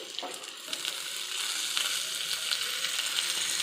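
Chopped onion fries with browned boiled potatoes in a pan, a soft, steady crackling sizzle with a few light stirring scrapes, fairly quiet and close.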